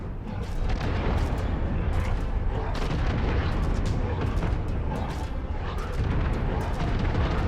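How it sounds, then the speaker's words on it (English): Ammunition cooking off inside a heavy mech in MechWarrior 5: Mercenaries, a sustained roar of overlapping booms and rapid bursts filling the whole stretch, loud and chaotic with no pauses. "An explosive situation. Ammo cooks off."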